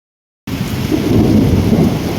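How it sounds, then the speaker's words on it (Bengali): Heavy thunderstorm heard from behind a house, with dense pouring rain and continuous rumbling thunder that starts suddenly and stays loud and steady, with no voices. "শুনতে পাচ্ছেন আকাশে কীরকম গর্জন হচ্ছে"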